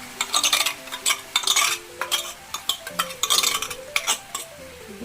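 Mutton with yogurt is stirred in a pan for rezala, rapid bursts of spoon scraping and clatter against the pan over a light sizzle, close and rhythmic, with no talk.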